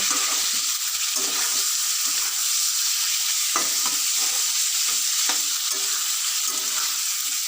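Marinated chicken frying in oil in a pan for chicken kosha, with a loud steady close sizzle throughout and occasional stirring scrapes and knocks.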